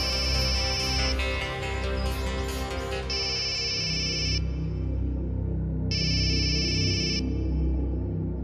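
An electronic phone ringtone plays in bright repeating bursts, pausing briefly between rings over a low steady background hum.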